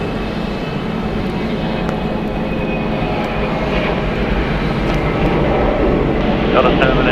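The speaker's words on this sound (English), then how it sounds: "Departing Delta Airlines Flight 2073 going to Wichita. It is a Boeing 717." A 21-year-old Delta Boeing 717 jet departs Atlanta Hartsfield-Jackson airport, its engines producing a loud, steady roar that builds slightly over the clip, with voices speaking over it.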